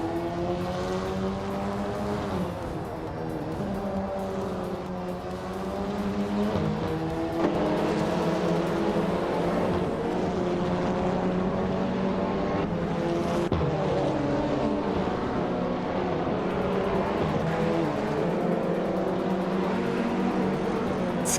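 Race car engine of a 2018 Peugeot 308 in a racing video game, a steady loud drone with shifting harmonic pitch as revs rise and fall, continuous throughout with no talk.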